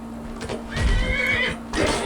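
A horse in Skyrim whinnies loudly and close, one drawn-out neigh that rises and trails off, with a fainter second call and a few hoof clops at the end.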